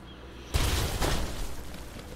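Concrete Donkey weapon in Worms WMD: a sudden heavy boom erupts after a quiet start, with a second crashing impact about half a second later, then a broad rumbling decay, loud and close, with no talk.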